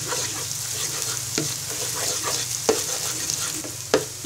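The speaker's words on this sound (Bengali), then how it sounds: "এবার ডিমটাকে নেড়ে ঝুরা ঝুরা করে নিব।" Beaten egg seasoned with tasting salt frying in a pan, stirred and scrambled into crumbles: a steady loud sizzle with sharp spatula scrapes and knocks every second or so.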